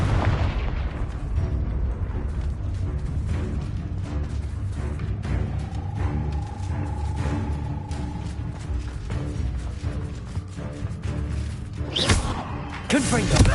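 A Confringo blasting curse in Hogwarts Legacy erupts in dense, continuous rumbling blasts and crackles amid combat noise, ending with a sharp flash of sound and a final heavy burst.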